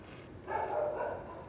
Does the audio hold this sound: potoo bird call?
no